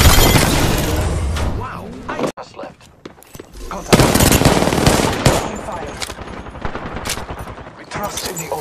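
Video game gunfire, bursts of rapid automatic shots and booms, loud and dense at the start, then broken into separate volleys with brief lulls, with voices heard among the shots.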